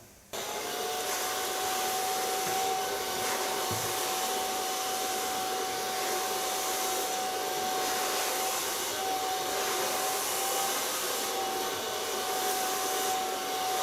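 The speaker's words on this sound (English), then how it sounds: "take a medium light brush and start blow drying the hair" A hair dryer runs steadily and loudly at close range, blow drying long hair with a medium brush for the whole stretch, its whine holding a constant tone with slight airflow wavering and no speech.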